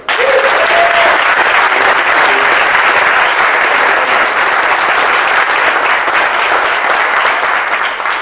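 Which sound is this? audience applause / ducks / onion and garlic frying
audience applause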